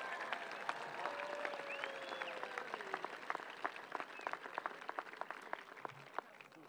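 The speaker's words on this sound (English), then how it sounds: "One more round of applause for our talented jazz players" An audience at an outdoor high school graduation in Arcata applauds the school's student jazz players. The clapping is steady and moderately distant, and a faint voice and whistle-like tones rise briefly above it early on.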